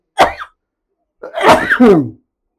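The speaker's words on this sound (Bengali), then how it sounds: "আমিও কাশলাম" A single sharp cough, then a second, longer explosive cough with a rough, sputtering tail, close and loud in a quiet room.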